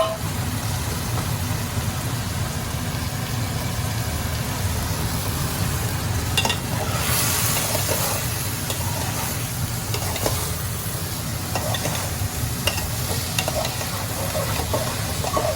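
Cashews and raisins frying together in a pan, a steady sizzle with repeated stirring scrapes throughout, moderately loud and continuous.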